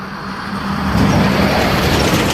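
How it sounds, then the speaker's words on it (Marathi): A truck on a winding ghat road beside a deep gorge on the route to Pachmarhi passes close by, its low engine rumble and road noise swelling and holding steady, with no talk. "इकडे पहा हा ट्रक आला"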